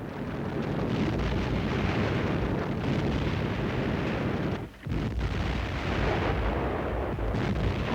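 German naval guns fire at point-blank range on Polish installations in the bay of Danzig in 1939, a loud, continuous, rumbling barrage of heavy blasts with one brief lull midway.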